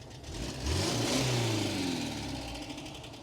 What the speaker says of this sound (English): All right, now rev the engine.